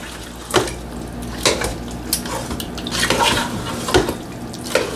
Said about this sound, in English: And then just give that a stir.